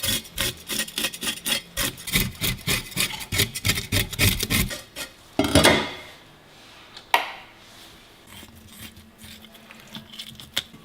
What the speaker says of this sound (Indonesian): Pertama kita bersihin ikan dulu ya.